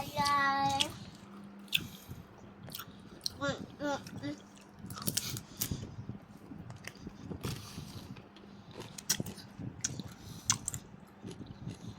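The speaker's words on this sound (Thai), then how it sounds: "กินปลาหมึกแบบเนี้ย เรารู้สึกเหมือน มันกรอบแบบกรอบ" Crispy baked squid from a Nong Mon shop being chewed close to the mic, with irregular crunchy bites and wet mouth sounds running steadily throughout, plus a brief tonal voice sound at the start.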